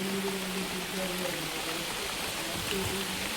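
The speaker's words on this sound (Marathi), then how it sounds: "मस्त पाऊस पडतो एकदम गारगार वातावरण झालेलं आहे इकडे बघा." Steady, even rainfall hisses throughout at night in the Konkan, with a low tonal hum running underneath.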